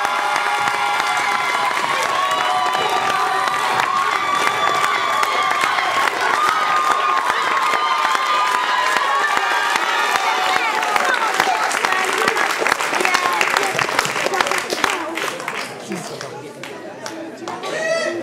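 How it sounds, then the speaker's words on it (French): A theatre audience gives a big ovation, sustained loud clapping and cheering with crowd chatter and shouts, tapering slightly near the end. "je voudrais une énorme ovation pour Monsieur Patrick Pondolin."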